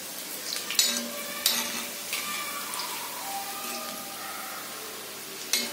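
Onion fritters crackle and sizzle in hot oil as they are turned, with sharp clinks of a utensil against the pan over a busy, bubbling fry and no talking.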